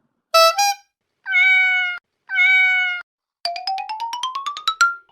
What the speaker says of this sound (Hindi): वो देखो चिंटू चिंकी का बिल्ली